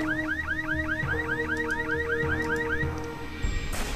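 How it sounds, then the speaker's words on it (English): An alarm in the video game Jagged Alliance 2 wails with rapid repeating rising sweeps over a steady electronic tone, loud and continuous, then cuts off abruptly near the end. "nobody cares about the alarm"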